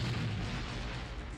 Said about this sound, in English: Glorious explosions.